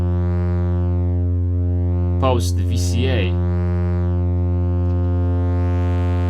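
A sustained buzzy synthesizer tone run through a Schlappi Engineering 100 Grit filter and distortion module, the sweeping filter rising and falling slowly, while someone briefly speaks over it partway through.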